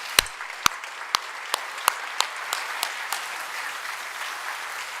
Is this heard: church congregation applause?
yes